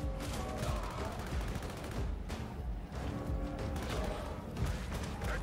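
Dense, continuous gunfire from the Helldivers video game, with rapid overlapping shots and bursts filling the scene at a steady, loud level with no pauses.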